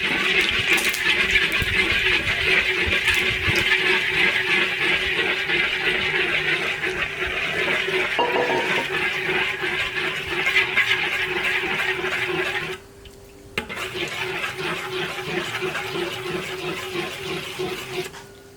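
Water poured into bubbling caramelized sugar in a large iron wok, a loud rushing, roiling boil that continues steadily, then drops off abruptly for a moment before the vigorous bubbling resumes, with no talk.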